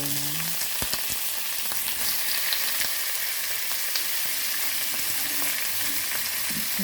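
Salmon and shrimp frying with celery in a pan, a steady hissing sizzle with a few faint clicks and stirs, close and continuous without speech.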